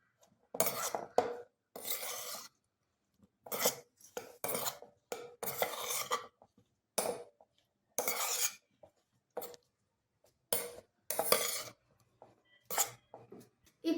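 A spoon stirs and scrapes in a bowl while fruit is mixed with salt and chili powder, giving short, separate clinking and rasping strokes with silent gaps between them. Nobody talks, and the strokes sound close and fairly soft.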